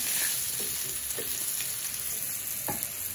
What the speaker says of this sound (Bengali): তো এই পাশে হচ্ছে মাছ ভাজি করতেছি, মাছ ভাজিটা হয়ে গেছে, এখন নামিয়ে নিব।